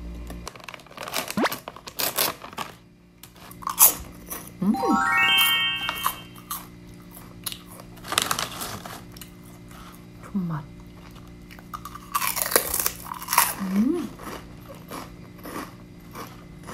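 Crunchy chewing of brown rice diet food, heard close up as scattered crisp crackles and bites, alongside rustling and a few short vocal sounds.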